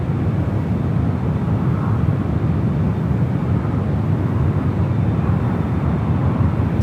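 A Boeing Dreamliner airliner taxis at San Francisco airport, its steady broadband engine rumble holding at a constant level throughout, with faint wind noise and no voices.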